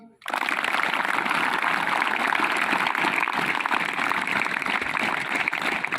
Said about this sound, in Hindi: चलो एक बार ताली बजाओ